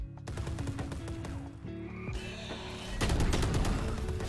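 Rapid gunfire from the video game Valorant rattles in dense automatic bursts, loud and continuous, with sharp repeated shots crowding together and a heavier volley toward the end.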